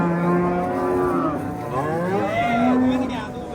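A cow at a livestock market lets out a long, loud, drawn-out moo, with a second moo following close behind, the calls near and clear over faint market background.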